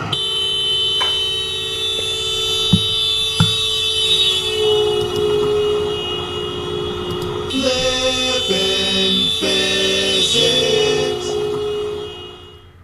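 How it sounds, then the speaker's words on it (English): Doppler effect demonstration: a steady horn-like, siren-like tone runs throughout with its pitch shifting as the source passes, loud and alone with no voices. "The Doppler effect is named after Christian Doppler"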